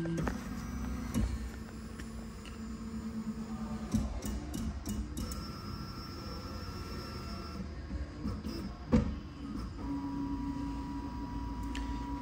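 An Ultimaker S5 3D printer loads PETG filament with steady mechanical whirring and ticking, soft clicks and a few louder clunks. It is close and moderately quiet, with no talking.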